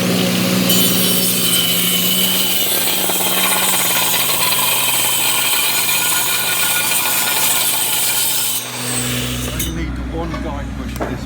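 A jigsaw cuts through wood to clear waste from the female half of a masons mitre, a loud continuous buzzing rasp that runs unbroken for about nine seconds before the blade stops.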